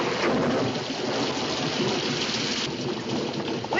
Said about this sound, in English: We can't go much further in this rain.